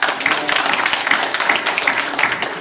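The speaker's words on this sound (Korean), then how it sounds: "격려의 박수 한번 드리겠습니다" A church congregation claps in encouragement at a Sunday service, scattered, uneven clapping at moderate loudness with a few voices murmuring underneath.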